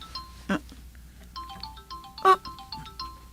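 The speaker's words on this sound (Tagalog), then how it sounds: "may tumatawag sa cellphone mo, Dom." A cellphone ringtone signals an incoming call, with a melodic tone repeating several times at moderate loudness indoors. Brief bursts of voice or movement noise break in between the rings.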